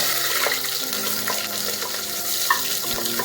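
Chopped onion and green chili frying in hot oil for a village-style North Karnataka mutton curry give a steady, close hiss with a few faint clinks, and nobody speaks.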